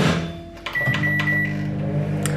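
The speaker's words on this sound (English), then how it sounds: "a minute and a half in the microwave" A microwave oven hums steadily throughout, its low drone constant, with faint clicks and a brief electronic tone near the start.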